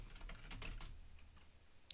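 Someone types a password on a computer keyboard, a quick run of soft, close key taps that trails off, with a brief sharp click at the end, quiet and alone.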